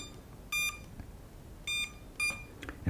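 A Hubsan Zino drone app sounds a fail-safe alarm: short, bright electronic beeps in quick pairs, repeating a few times over a quiet background, with a dull thump at the very end.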